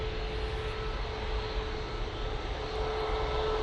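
A passenger airliner comes in to land at Manchester Airport, its engines a loud, steady broadband roar with a faint sustained whine, heard from nearby throughout.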